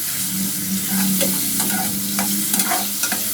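Chicken being stir-fried in a pan, a steady close sizzle with repeated scraping and stirring strokes from a spoon against the pan at an uneven rhythm.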